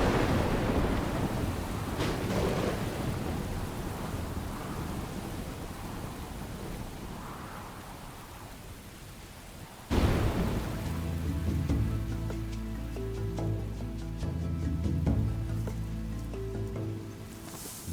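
Heavy rain downpour with rumbling thunder, a dense steady wash of falling water that shifts sharply partway through to a louder, closer patter with low rumbles, no voices.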